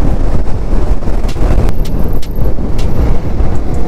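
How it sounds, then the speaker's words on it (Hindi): A motorbike engine strains loud and close as it labours up a steep zigzag mountain road in Spiti, with heavy wind buffeting through the whole stretch and no talk. "एकदम पूरा जोर मार रही है बाइक भी"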